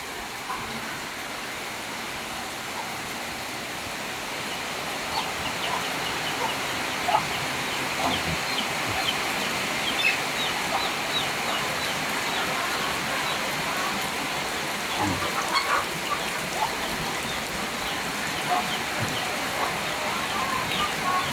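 Chickens cluck and call amid steady rainfall during a flood, their scattered calls rising above a constant wet hiss of rain on surfaces nearby.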